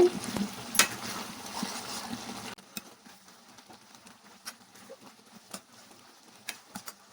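Brinjal tomato curry being stirred in a pan, a sizzling scrape at first that drops away, followed by sparse intermittent clicks and taps of a spoon against the pan.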